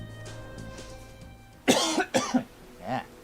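A single sharp cough with a couple of rough follow-up bursts, loud and close, heard over quiet video-game background music and ambience.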